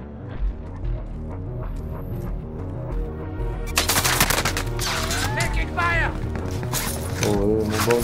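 Rapid automatic gunfire crackles in the Call of Duty Modern Warfare video game, a dense run of shots starting partway through and continuing to the end, over game sounds and a voice speaking.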